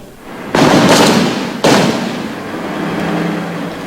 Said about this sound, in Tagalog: Panakanak ang putukan ng baril ang umalingaw-ngaw sa lugar.